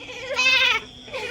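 A voice imitates a goat with a short, quavering bleat, close and fairly soft, followed by a brief weaker second call.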